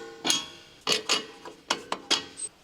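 A bolt is fitted through a Honda CR-V strut and its steering knuckle, making a series of sharp metallic clicks and knocks, about six separate hits at irregular intervals, close and fairly quiet.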